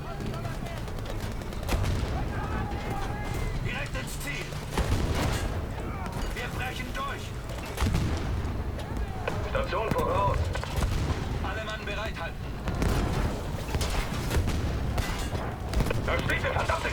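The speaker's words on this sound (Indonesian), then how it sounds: "Jadi kita lihat di sini banyak banget ledakan-ledakan" Battlefield 5 combat played on PC brings repeated explosions and bursts of gunfire in loud, irregular waves, with booms recurring every few seconds and a faint voice now and then.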